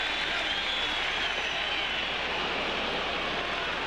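A Fenway Park baseball crowd at a Yankees versus Red Sox game reacts to a pitch with a steady, broad roar of noise that holds at an even level throughout, distant-sounding and unbroken.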